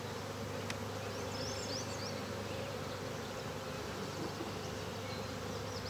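Honeybees buzz steadily and densely throughout during a hive inspection, a continuous close drone with no break and no talking.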